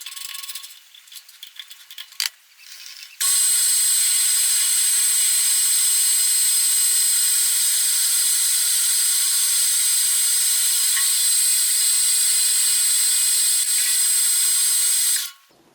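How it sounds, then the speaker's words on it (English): A lathe with a part chucked in spins up after a few faint handling clicks, then holds a loud, steady high mechanical whine for about twelve seconds before cutting off abruptly. "Let's chuck this up in the lathe."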